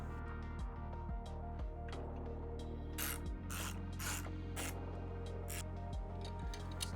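A socket ratchet tightens a bolt on a pannier rack support on a 2024 KTM 1290 Super Adventure R. Quick close clicking strokes repeat in bursts over a steady low hum, with no talk.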